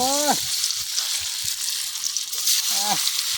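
Silver carp pieces frying in very hot oil, a broad steady sizzle hissing close by, with brief voices chirping at the start and near the end.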